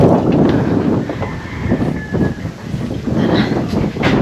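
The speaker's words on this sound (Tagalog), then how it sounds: "Narinig niyo yung hangin mga maninay?" Strong wind blows outdoors and buffets the microphone, making a loud, rumbling roar that rises and dips in gusts, with faint voices now and then.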